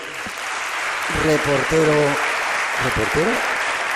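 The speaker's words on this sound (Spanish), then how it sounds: "os pido un aplauso para él" Studio audience clapping in a broadcast studio runs as a steady wash of applause under a voice speaking over it.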